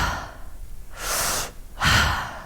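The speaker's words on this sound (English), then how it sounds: "take a deep inhale in, fill up the lungs all the way fully" Two deep breaths in a rhythmic yoga breathing exercise, each a strong airy rush through the nose or mouth, close and loud, separated by brief quiet.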